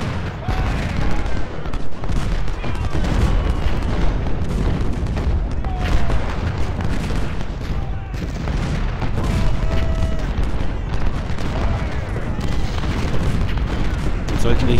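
Cannon artillery fire in the Civil War strategy game Ultimate General: Civil War at Hardin Pike, a continuous rumble of booming volleys and crackling musketry, dense and loud throughout, with someone talking over it in German.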